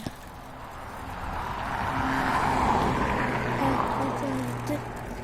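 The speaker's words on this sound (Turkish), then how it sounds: "araba geliyor" A car approaches on a road and passes close by, its engine and tire noise swelling to a peak midway and then fading, with people talking nearby.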